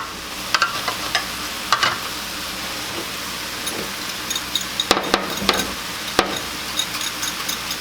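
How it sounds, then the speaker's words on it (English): Cornstarch is whisked with beef broth in a small bowl, giving light, irregular clinks and taps of a whisk against the bowl, close and fairly quiet, with no talking. "we want a tablespoon of that beef broth, and just whisk that together."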